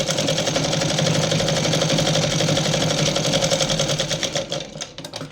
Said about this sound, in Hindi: इस तरह से यहाँ पे डबल सिलाई कर देंगे।